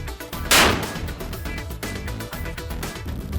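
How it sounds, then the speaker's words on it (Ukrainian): A Neptune missile fires in a training launch from the deck of the tug Korets at sea, giving a sharp, loud blast followed by a sustained rushing roar that carries on to the end. "з борту буксиру «Корець» вже проводилися навчальні стрільби"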